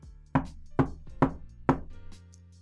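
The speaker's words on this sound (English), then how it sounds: "we heard those same rhythmic knocks" Four sharp, evenly spaced knocks on a door ring out clearly in a quiet room, followed by a faint softer tap.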